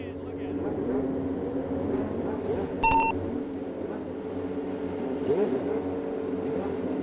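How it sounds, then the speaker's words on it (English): IndyCar race cars at the Grand Prix of Portland with engines revving up before the start, a steady layered roar with rising pitch swells and a brief sharp peak near the middle, while a commentator talks over it. "A moment of drama as the motors come up."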